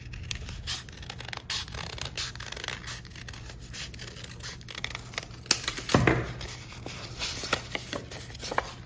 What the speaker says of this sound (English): And now I'm gonna cut a big curve.